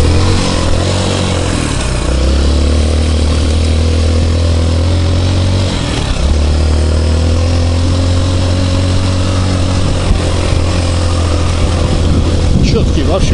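A Lifan 200cc bottom-cam engine fitted in a Honda motorcycle frame runs close up with a steady, loud mid-pitched drone that dips around the middle and picks back up, suggesting revving.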